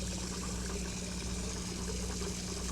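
Water filling a container inside the Hello Neighbor video game, a steady continuous pouring and gushing stream with no pauses, fairly soft and alone with no talking.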